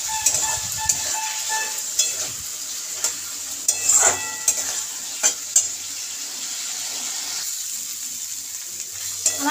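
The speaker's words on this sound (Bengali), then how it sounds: "ভালো করে কষিয়ে নেব" Spice paste, thinned with a splash of water, sautés in a pan for a hilsa curry with potato and eggplant, a soft continuous sizzle broken by repeated scrapes and clinks of a spatula stirring it.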